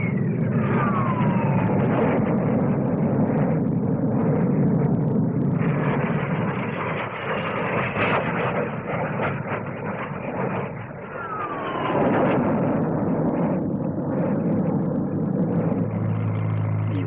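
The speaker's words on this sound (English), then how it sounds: "Vickers Armstrong Scimitar single-seat naval fighter bomber with two Rolls-Royce Avon turbojet engines." At the 1957 Farnborough SBAC flying display, a Vickers-Armstrongs Scimitar naval fighter-bomber with two Rolls-Royce Avon turbojets passes with a loud, continuous jet roar and sweeping whine that swells and eases over several seconds.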